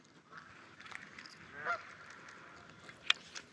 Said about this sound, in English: It's like a whole freaking goose party happening in the woods over here too.